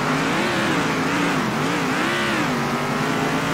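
Race car engine held at full throttle in the racing video game Circuit Superstars, a steady loud whining roar with slowly wavering pitch that continues without a break, alone and close.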